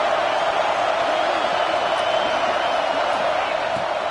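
A home crowd at a college football game between Arizona State and Penn State roars loudly in a dense, sustained wash of cheering, with a commentator's voice speaking over it.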